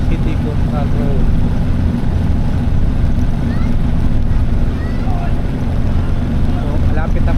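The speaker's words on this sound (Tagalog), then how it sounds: "Hangin po dito guys." Strong wind buffets the microphone along Calbayog City Coastal Road, a steady loud roar with low rumbling gusts throughout, and a voice is faintly present beneath it.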